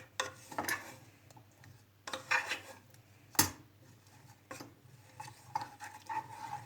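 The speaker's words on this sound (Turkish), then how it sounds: "Bu ikisini birlikte karıştırarak eritiyoruz." A spoon stirs butter and 140 grams of chocolate together in a pot as they melt, with irregular scraping and clinking strokes against the metal, close and moderately loud, and quieter rubbing between strokes.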